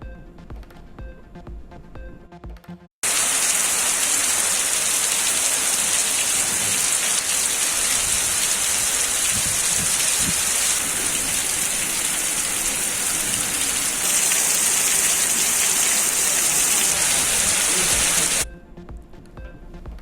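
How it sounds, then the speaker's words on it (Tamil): Heavy summer downpour in Sivaganga, a steady dense roar of rain pounding surfaces for about fifteen seconds, loud and unbroken, beginning and ending abruptly. "சிவகங்கையில் திடீரென வெளுத்து வாங்கிய கோடை மழை."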